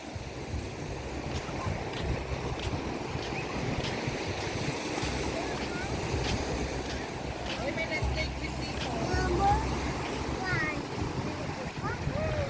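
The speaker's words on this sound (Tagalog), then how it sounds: "Ang ganda ng ano, ang ganda ng dagat, maalon" Ocean surf at Naic rolls and washes continuously against a steady roar of wind buffeting the microphone, with faint voices and distant activity mixed into the background.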